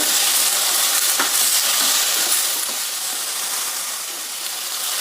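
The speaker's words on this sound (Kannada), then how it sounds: "ಎರಡು ಎಸಳು ಬೆಳ್ಳುಳ್ಳಿ ಹಾಕ್ತಾ ಇದ್ದೀನಿ ನಾಲ್ಕು ಹಸಿಮೆಣಸಿನ್ಕಾಯಿ ಇದನ್ನು ಇವಾಗ ಚೆನ್ನಾಗಿ ಬಾಡಿಸ್ಬೇಕಾಗುತ್ತೆ" Garlic cloves and green chillies sizzle and fry in a hot pan, a loud, steady hiss that carries on throughout with no talking.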